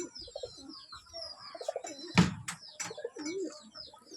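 Kalanka pigeons in a pigeon loft give soft, low repeated coos, with a louder flutter or burst near the middle and faint chirps overhead. The loft sounds close and busy.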